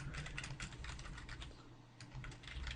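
Quiet, steady typing on a computer keyboard, with soft rapid key clicks in an uneven rhythm that continue alone, close up and with no talking.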